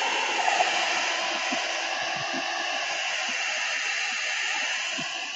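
A hair dryer blows a steady, loud rush of air while drying a paintbrush just cleaned for ink artwork, a continuous hiss running unbroken with faint low bumps beneath it.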